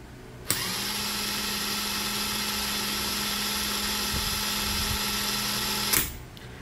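A cordless brushless impact wrench runs freely at speed 2, about 1200 RPM, with a steady high-pitched motor whine and gear hum. The sound starts abruptly, holds constant for five seconds and then cuts off, with no talk.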